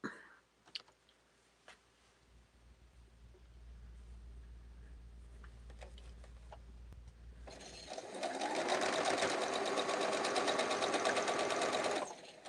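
A sewing machine joins quilt blocks together: after soft handling clicks and a low hum, the motor whirs up into a steady, close stitching run lasting several seconds before stopping.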